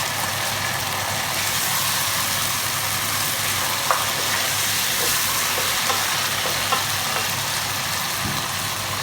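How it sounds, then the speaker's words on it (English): Tomatoes fry in a pan over full flame, giving a loud, steady sizzle that runs the whole time with a few faint clinks and stirring knocks, and no talking. "I'm going to now add all the tomatoes."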